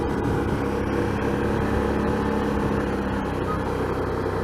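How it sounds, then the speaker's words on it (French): Rumbling engine noise on a rural road, with a tractor somewhere ahead, a steady loud drone heard from inside a moving vehicle, constant throughout with no pauses. "Ah, j'ai un tracteur devant."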